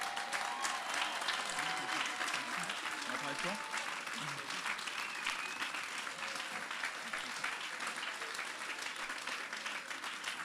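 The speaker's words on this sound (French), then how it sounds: "peut-être lui faire un petit tonnerre d'applaudissements" Sustained audience applause at a French-language event, a steady dense wash of many hands clapping for the guest Louis that holds at an even level for the full stretch, with faint voices mixed underneath.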